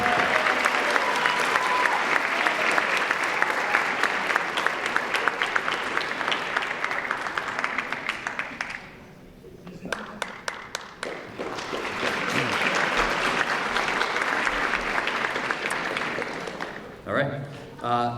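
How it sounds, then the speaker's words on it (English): An audience at a high school fall sports awards ceremony applauds loudly for several seconds, the clapping dipping briefly before swelling again into sustained applause and then fading out. "So please join me in applauding and congratulating Eric Peterzak."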